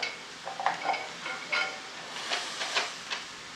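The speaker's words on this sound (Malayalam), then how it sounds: "നമുക്ക് കുറച്ച് തേങ്ങാക്കൊത്തിടാം." Coconut pieces go into a frying pan with softened onion, giving a soft sizzle and hiss with scraping stirs and a few light clinks, moderately close and with no talking.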